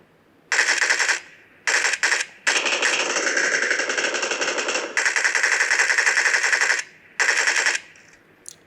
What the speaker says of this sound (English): Long range MG marksmanship